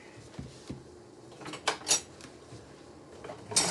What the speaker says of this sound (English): A butter knife. And I'm going to spread that mayo over.